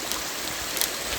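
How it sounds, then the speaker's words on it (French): Small cascades of water running beside a hiking path near Mont-Dore in Auvergne, a steady soft rush of flowing water with no voices, heard at moderate distance. "il y a déjà des mini cascades sur le chemin"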